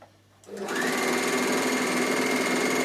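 A Bernina overlocker sews along a scarf edge, starting after a brief quiet moment and running as a steady, loud, fast mechanical whir with rapid stitching chatter to the end.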